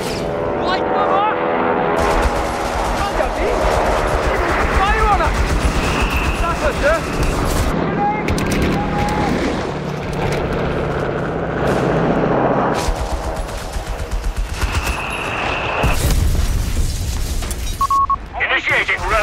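Heavy gunfire and repeated explosions from a Company of Heroes 3 battle, with Royal Engineers troops under fire: dense rattling bursts and booms run throughout, loud and busy, while in-game voices talk over the fighting.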